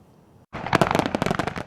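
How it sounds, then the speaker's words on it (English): Fourth of July fireworks burst in the air: after a half-second of quiet, a dense run of sharp crackling pops erupts loudly and keeps going. "The 4th of July fireworks bursting high in the air"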